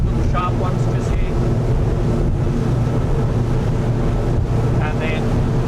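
A Tasman 80 boat motoring at 24 knots through short, sharp waves in Bass Strait, engine near 3,000 RPM, gives a loud, continuous rumble and wash of water and wind, with a voice talking underneath.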